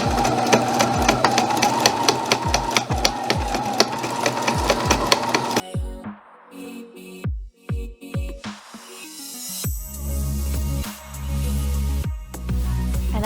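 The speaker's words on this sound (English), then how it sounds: "at some points you are going to be sewing through a lot of layers of fabric" A sewing machine punches through several layers of fabric for a protective face mask, with fast, steady needle strokes for several seconds, then halting and restarting in short bursts amid handling noise.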